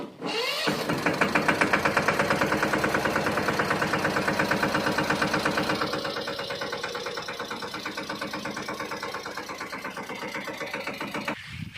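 A tractor engine runs steadily with a rapid, chugging rhythm as it heads to a farm field, close by and continuous, easing slightly in level partway through.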